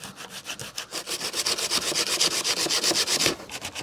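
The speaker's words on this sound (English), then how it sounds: "You just got to give it a good scuff up" Steady back-and-forth scuffing on plastic VW T5 A and B pillar trim, a close, loud rasping rub repeating in quick regular strokes throughout with no voices.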